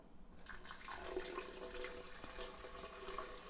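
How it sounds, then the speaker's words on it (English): Filtered water poured steadily into a container while making hemp milk, a continuous splashing flow lasting a few seconds, close and moderately loud with no talk. "And then I'm going to add 2 cups of filtered water."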